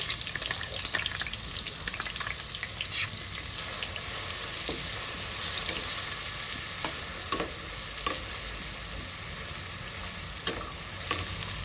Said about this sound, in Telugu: మంచి గోల్డెన్ కలర్ వచ్చే వరకు ఫ్రై చేసుకోవాలి ఉల్లిగడ్డ.